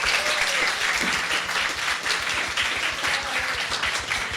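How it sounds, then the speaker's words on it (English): An event audience applauds panelists, a dense, sustained clapping from many people, fairly close and steady, with a faint voice or two underneath. "Please give a quick round of applause for our amazing panelists."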